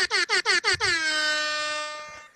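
A loud air horn blasts five short rapid honks, then holds one long sustained blare before cutting off.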